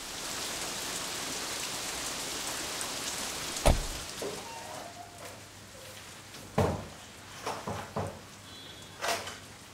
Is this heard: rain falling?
yes